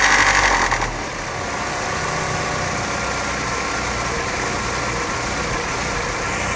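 An Opel Corsa GSI engine with a fault idles steadily up close after a brief louder rev at the start, settling into a continuous mechanical hum with a faint rattle and no voices over it.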